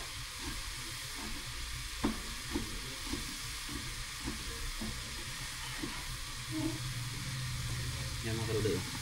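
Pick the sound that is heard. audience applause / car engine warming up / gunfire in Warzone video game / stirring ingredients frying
stirring ingredients frying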